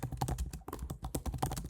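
Quick bursts of keystrokes on a computer keyboard as an email subject line is typed, a close, brisk clatter of individual clicks with a brief pause partway through.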